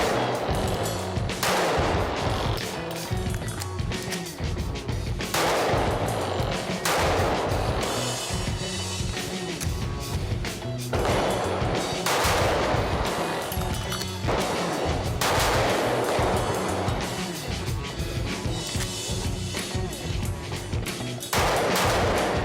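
Sig Sauer P365 XL pistol fired at a shooting range, a series of loud, sharp gunshots in spaced bursts across the clip with echoing decay between shots.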